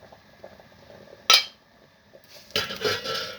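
A sharp metallic clink, then a longer clatter of a metal jar lid taken from a sterilizing pot, close by with quiet kitchen background between.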